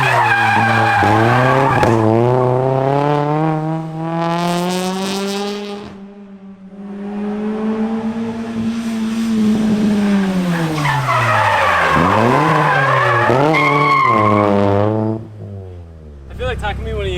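Honda CRX drifting with loud, long tire squeals that rise and fall in pitch, wailing in several sweeping bursts close by with engine noise underneath.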